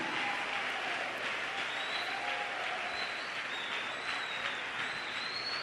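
A church audience applauds to welcome a pastor, steady even clapping sustained for several seconds at moderate distance, with faint cheers rising over it.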